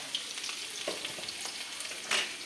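Mustard seeds and onion fry in hot oil for a Kerala thoran, giving a soft, steady sizzle with small crackling pops and a few scraping stirs, close and fairly quiet with no talking.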